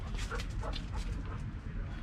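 Dogs bark, yip and whimper close by in a busy indoor space, a steady run of overlapping excited calls across the whole stretch with faint voices mixed in.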